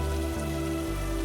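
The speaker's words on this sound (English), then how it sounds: "The rain outside is barely there now." Soft, steady rain falls outside at night, a gentle continuous patter with no other sounds and no talking.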